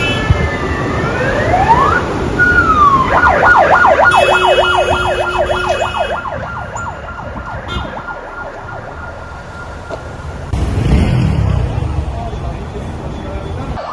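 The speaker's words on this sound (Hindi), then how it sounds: "राजधानी बेरूत के कोने कोने से सिर्फ एम्बुलेंस के सायरनों की आवाजें गूंज रही थी।" Ambulance sirens wail through Beirut streets after the pager blasts, one rapid yelping siren rising and falling close by and loud over traffic and vehicle noise, with another tone joining and a shift near the end.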